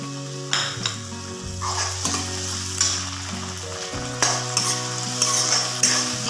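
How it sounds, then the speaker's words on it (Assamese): Chopped tomatoes hit onions already frying in a pan for a chutney, setting off a loud, steady sizzle with occasional clinks and stirring scrapes of a utensil against the pan. "এইখিনি মই চাটনি বনাবলৈ পিঁয়াজখিনি ভালকৈ ফ্ৰাই কৰি ল'লোঁ আৰু এতিয়া দিছোঁ বিলাহী"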